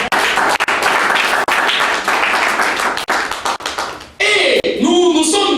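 Church congregation applauding loudly and continuously, dense clapping that cuts off near the end as a voice and music-like tones take over.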